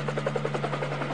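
A cartoon helicopter sound effect plays as a short, steady rotor chop with a constant buzzing hum.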